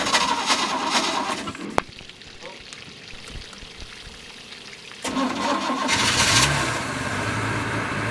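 A Glastron Carlson CVX23 boat engine being cranked on a weak battery, with a short cranking burst, a sharp click, a quieter pause, then the engine catching and running loudly.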